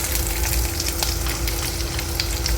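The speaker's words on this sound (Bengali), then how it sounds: "তেলটা একটু গরম হলেই আমি এর মধ্যে পেঁয়াজগুলোকে দিয়ে দেবো" Onions fry in hot oil in a pan for kadai paneer, a dense, steady sizzle with scattered crackles and soft stirring, close and continuous with no voices.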